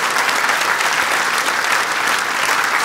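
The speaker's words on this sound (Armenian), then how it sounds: "եկեք մի հատ էլ ջերմ ծափարենք մեր կանանց" An audience at a stand-up comedy show claps warmly, a dense, even wash of applause that stays loud and steady from start to finish.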